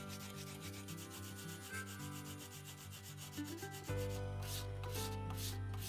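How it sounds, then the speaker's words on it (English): Fine grit sandpaper rubs along the edge of a hand-forged axe in steady back-and-forth strokes, close and fairly quiet, over a constant low hum; the scraping brightens after the first few seconds. "I then switch over to fine grit sandpaper until I can see some burr on the edge of the axe"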